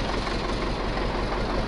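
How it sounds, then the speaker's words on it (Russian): An MTZ-50 tractor with a D-240 diesel engine idles close by, giving a dense, steady low rumble with a faint knocking pulse and no speech. "Завел МТЗ-50 с двигателем Д-240."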